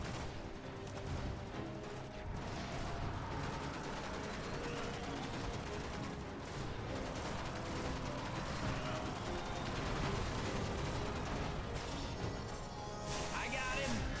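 Gunfire from Bungie's Destiny video game crackles steadily throughout, a dense mix of rapid shots and bursts under constant game noise, with voices talking over it.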